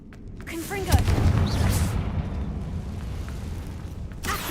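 A Confringo blasting spell from the Hogwarts Legacy video game goes off with a loud boom about a second in, followed by a sustained rumbling burst that slowly fades, with a voice talking over it.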